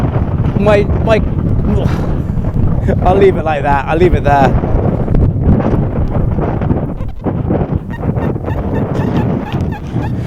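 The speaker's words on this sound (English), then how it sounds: "It's a lovely day to be out, but it's just very, very windy." Heavy wind buffets the microphone outdoors in the UK with a constant low rumble while someone speaks briefly over it.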